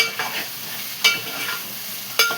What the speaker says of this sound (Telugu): ఇలాగ దొండకాయ ఇలా ఫ్రై చేస్తాను